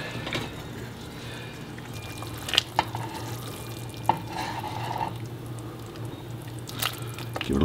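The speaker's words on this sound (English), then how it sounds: "Give it a quick stir." A spoon stirs chicken and andouille sausage gumbo in a pot with soft wet squishes and a few sharp clinks against the side over a low steady hum.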